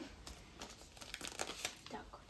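A plastic packet crinkles and rustles in short bursts as it is handled, fairly close and quiet, with people talking over it.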